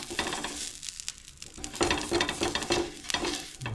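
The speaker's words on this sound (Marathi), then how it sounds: "तव्याला तेल लावणार आहोत" Steady hissing sizzle of oil spread on a hot griddle for dosa, with a few light scraping touches, close and continuous throughout.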